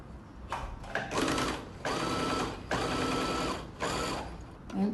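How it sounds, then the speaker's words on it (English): Sewing machine stitching a band across a tutu skirt, running in several bursts of rapid mechanical whirring with short pauses between them, close and loud. "now we are sewing this little band across"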